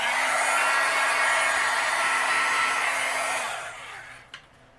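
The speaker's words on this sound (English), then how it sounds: "I'm going to use my heat gun and we'll melt this." A heat gun blows a steady, loud roaring hiss as it melts embossing powder on a stamped greeting card, then winds down and cuts off near the end, leaving quiet with a small click.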